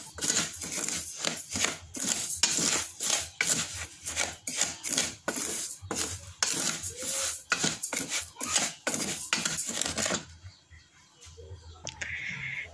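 Rhythmic scraping and rubbing of a utensil stirring dry pudding ingredients in a pot, repeated strokes up close, stopping near the end.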